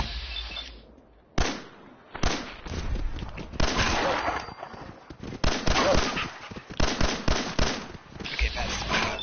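Gunfire in Fallout 4 survival mode against wild animals near a log bridge: a rapid series of sharp, loud cracking shots in irregular bursts, close and punchy, with brief quiet gaps between volleys.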